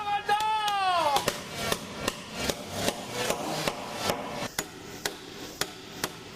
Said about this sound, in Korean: 나이가 무색하게 그의 망치질은 힘이 넘칩니다